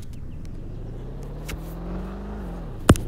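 A car engine in the Vehicle Tycoon video game holds a steady, low hum that rises gradually in pitch, then drops near the end, followed by a sharp, loud click or thump.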